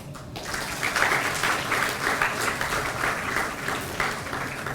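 An audience claps steadily at a women's participation celebration marking 75 years of Indian independence. The dense applause stays fairly even and fills the room for nearly five seconds, with no speech over it.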